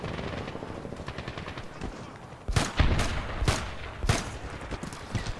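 Gunfire in Medal of Honor multiplayer: automatic bursts and sharp single shots crack out over a continuous rumbling battle background, a few loud reports standing out near the end.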